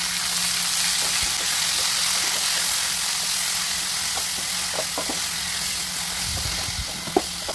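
Turmeric and masala powder being stirred into vegetables frying in a pan, a steady close sizzle with scattered scraping stir clicks and no talking.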